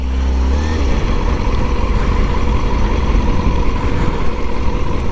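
A motorcycle engine, just restarted, runs loudly and steadily up close with a deep, continuous rumble at idle and no pauses.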